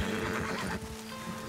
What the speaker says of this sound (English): I called this horse to me and it started freaking out.